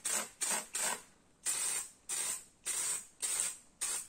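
A plastic bottle sprayer spraying varnish onto wood, about nine sharp hissing bursts in an irregular rhythm, loud and close, with short gaps of quiet between them.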